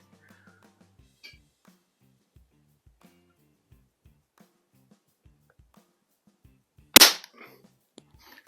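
A single sharp Crosman .177 multi-pump pellet rifle shot, loud and close, standing alone after a stretch of near silence broken only by faint soft ticks.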